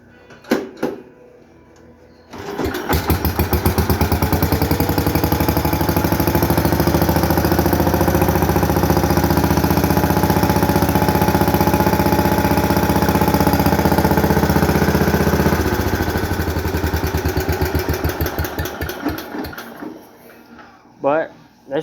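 A clean older tractor engine starts while in gear and runs at a steady, loud, throbbing idle for about thirteen seconds before shutting down, with clunks at the start and end and no clear talk.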